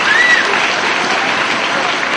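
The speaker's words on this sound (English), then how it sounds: "Round of applause from the fans here in Detroit." Wrestling fans applaud steadily in a Detroit arena after an exchange in the ring, a dense, even wash of clapping that holds at a constant level throughout.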